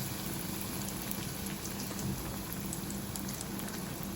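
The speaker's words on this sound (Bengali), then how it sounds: "একটু তেল দিয়ে চিকেনটাকে আমরা এখানে ফ্রাই করে নেব" Breadcrumb-coated chicken Kiev fries in a little oil, a soft, even crackling patter like light rain that continues without pause, fairly quiet, with no one speaking.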